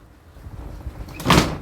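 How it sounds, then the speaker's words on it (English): A spring-loaded door in a bush shack swings shut on its own. Faint creaks and shuffles come first, then a loud, close thud and clatter near the end. "that's the spring load of the door. I didn't do that. It just sprung loaded to close"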